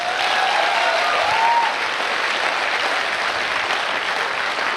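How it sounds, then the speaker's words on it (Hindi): Loud, sustained applause for the speaker at a seminar in Meerut, with many people clapping densely and evenly close by, and a faint whistle-like tone briefly rising above the crowd noise early on. "एक जोरदार ताली सर के लिए।"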